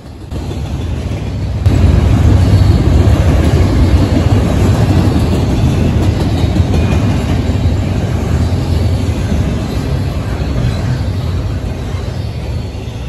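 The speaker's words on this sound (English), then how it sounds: "Southern southbound intermodal train going down the Sandusky District with a mixture of Union Pacific and BNSF 4 in power" A Norfolk Southern southbound intermodal freight train led by Union Pacific and BNSF locomotives rolls past close by, a loud, steady rumble and rattle of cars that begins suddenly and continues unbroken.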